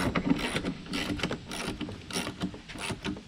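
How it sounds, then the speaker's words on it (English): Small hand ratchet driving Allen head screws into a tailgate reinforcement plate on a Ford Bronco Wildtrak, giving a close, steady run of light mechanical clicking strokes with no talk. "I'm tightening up these Allen head screws now. You can see I'm using a pretty small ratchet."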